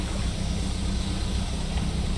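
A boat engine in the video game Dredge runs as a steady low hum and rumble with a faint hiss, continuous and unchanging.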